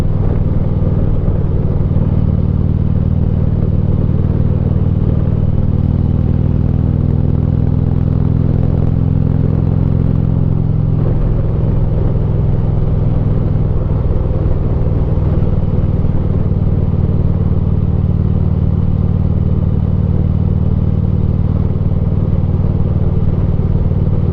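A new Harley-Davidson Ultra Classic motorcycle riding through Niles Canyon, its engine a loud, continuous low rumble with wind roar, steady throughout with slight shifts in pitch as it cruises.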